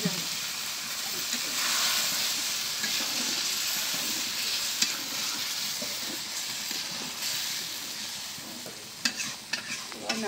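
Spice masala for a river fish curry sizzles steadily in a pan after a splash of water, with continuous close frying hiss, scraping stirring, and a few sharp clinks near the end.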